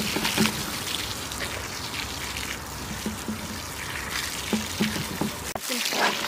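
Water pours steadily into a deep planting hole dug in dry soil before corn seed is sown, a continuous splashing trickle heard close by, with someone speaking Turkish over part of it.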